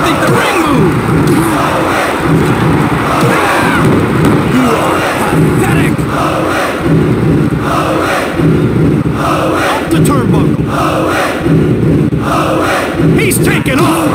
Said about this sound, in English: Man, this crowd is all pumped up.